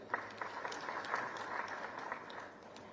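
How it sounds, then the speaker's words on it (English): A conference crowd at a national development plan meeting claps for itself, a continuous wash of applause with a few sharper nearby claps, moderately loud and slowly thinning toward the end. "So we may clap for ourselves."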